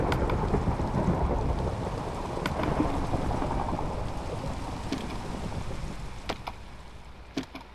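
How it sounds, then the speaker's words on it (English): Dense steady rainfall inside a city-building game, a loud broadband patter that eases slightly over time, with a few sharp drop-like ticks standing out near the end. "And there goes the rain"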